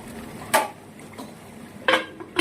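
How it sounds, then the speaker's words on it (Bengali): Metal lid clinks lifted off a cooking pot of doi katla, Bengali yogurt fish curry, with three short, close clanks spread over a couple of seconds. "ঢাকনা খুলে দই ঘাটাটাকে আমি এবার নামিয়ে নেবো"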